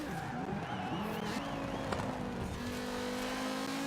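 A rally car in a racing game brakes hard into a skid, tires squealing with wavering pitch over a steady engine drone that shifts and settles as the car slows.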